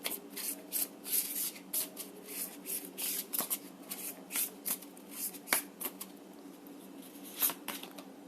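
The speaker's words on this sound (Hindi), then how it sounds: "I will take one more card from this deck." A deck of tarot cards is shuffled by hand, with quick soft riffling and flicking bursts repeating in an uneven rhythm, quiet and close.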